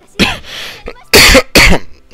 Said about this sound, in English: That was an awkward dry cough